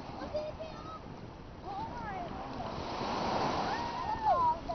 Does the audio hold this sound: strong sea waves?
yes